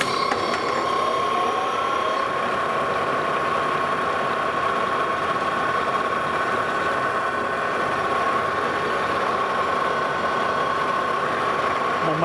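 Metal lathe turning down a 1-inch steel pin to half an inch for an Emmert pattern maker's vise repair, a steady mechanical hum with a constant whine and a continuous low rumble throughout.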